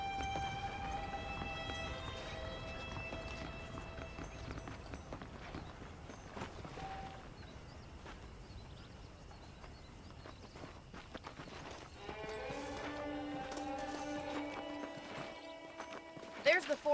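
Horse hooves clip-clop at a steady walking pace in the Red Dead Redemption video game, running alongside continuous music and a talking voice, with a short burst of louder noise at the very end.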